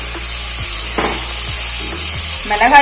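Spice masala and tomatoes sauté in a pan for Kerala-style karimeen fish polichathu, with a loud, steady sizzle and repeated scraping of a spoon against the pan.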